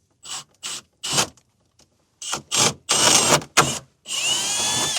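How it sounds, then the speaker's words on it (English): A power drill drilling holes through a Toyota N70 Hilux roof whirs in short bursts, stopping and starting several times before a longer final run, close and fairly loud. "Just make sure you get the drill bit through the hole in the roof"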